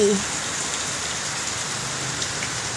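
Heavy rain pours steadily onto a durian orchard, a dense, even hiss of falling water with no pauses and no voices.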